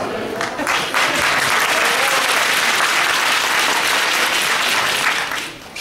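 A crowd at a political party election convention in Kraków claps warmly and steadily, a dense, loud wall of applause that holds for several seconds before tapering off at the end.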